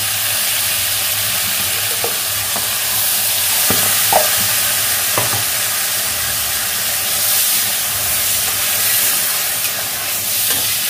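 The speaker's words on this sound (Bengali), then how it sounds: "এটাকে এইভাবে এবার নাড়তে হবে কিছুক্ষণ।" Chicken posto curry with added water being stirred in a pan, a steady loud simmering hiss with scattered soft scrapes of the spoon and no talk.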